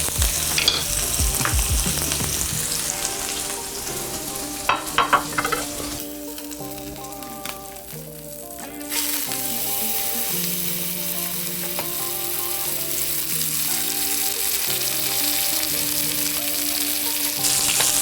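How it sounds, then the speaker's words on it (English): Steak searing in a hot pan with butter, a steady loud sizzle and frying crackle running throughout, with a few sharp clatters near the start and a music bed underneath. "Add my steak to the pan."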